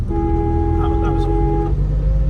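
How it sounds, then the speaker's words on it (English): The horn of a 1946 Chevrolet Fleetmaster sounds one loud, sustained tone for about a second and a half, close by over the rumble of the idling engine. "that is just so annoying, that flipping horn"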